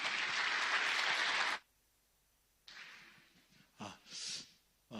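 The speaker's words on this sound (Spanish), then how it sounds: "Vamos a recibir con fuertes aplausos" A church congregation at a Christian leaders' conference in Peru applauds to welcome a visiting pastor, a loud burst of clapping that stops abruptly, followed by quiet breaths and a few soft close sounds.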